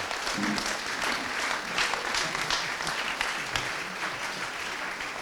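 An audience in a hall applauds at a commemoration of the lynx's reintroduction in the Jura. The clapping is steady, dense and sustained, with a light murmur of voices under it.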